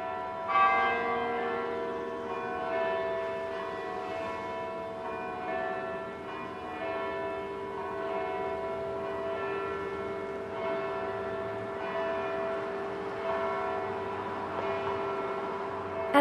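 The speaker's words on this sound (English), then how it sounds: "Burlingtonians take time out from busy schedules to absorb the sound of the bells" Church bells ring continuously during a community bell concert in Burlington, their sustained overlapping tones carrying across a valley, steady and moderately loud with no voices.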